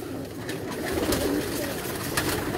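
Breeding pigeons coo in a steady, low murmur that runs throughout, with a few louder coos standing out over the dense cooing of the flock.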